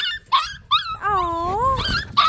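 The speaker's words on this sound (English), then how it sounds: "It's growling." A dog that sounds unsure makes a short series of vocal noises, mostly whining and whimpering tones with a longer wavering cry in the middle, close and clear over a low background rumble.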